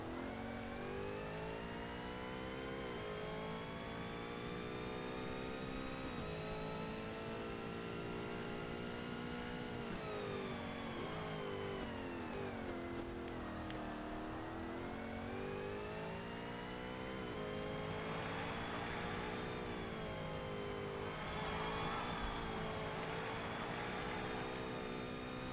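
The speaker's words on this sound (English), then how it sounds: "Stop doing burnout. Stop roasting the tires." A race car in Forza Motorsport revs hard during a burnout, its engine note sustained and loud for the whole stretch, rising and dipping in pitch with whirring tire-spin texture, no talk over it.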